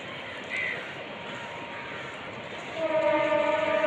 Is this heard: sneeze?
no